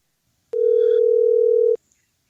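A telephone dial tone on a call sounds as one steady, unbroken hum for just over a second, loud and close, then cuts off sharply.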